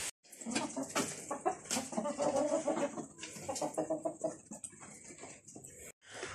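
Hens feeding at a backyard poultry yard cluck in busy, overlapping bursts that run steadily for several seconds, close by, with no talk over them.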